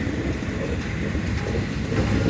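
A CN train pulling empty welded rail cars rumbles past close by in winter, a dense continuous roar of wheels and rolling cars with steady low clatter throughout.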